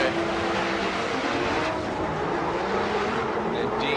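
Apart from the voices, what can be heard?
high horsepower 2JZ drift car engine during Formula Drift battle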